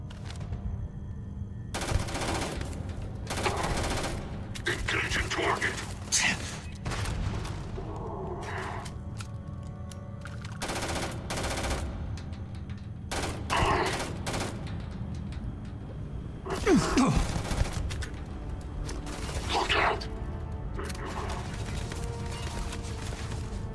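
Bursts of automatic gunfire and single shots from weapons in the video game Starfield. Loud volleys come in separate clusters over a steady low background hum, with short pauses between the bursts and no talking.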